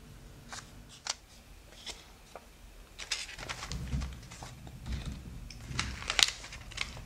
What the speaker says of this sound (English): we can stack them together and cut them all at once.